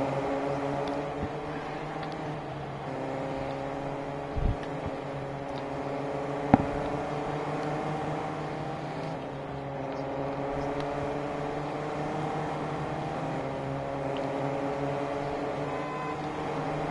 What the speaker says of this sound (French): Un moteur Ford, un moteur Mercedes face à un moteur Toyota.